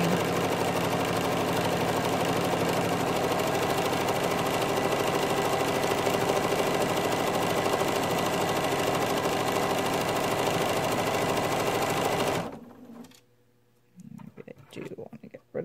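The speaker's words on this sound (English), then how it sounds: "I think I can just start my free motion stitching right from here. I'm just going to do a little bit of stippling." Sewing machine doing free-motion stippling on an appliqué iris greeting card, a steady, close, loud whirring stitch run that continues for about twelve seconds before stopping abruptly, followed by faint handling noises.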